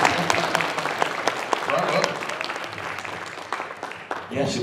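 Audience applause at a WhoFest convention panel, dense clapping that fills the room steadily for several seconds, with voices mixed in beneath it and a brief chatter near the end.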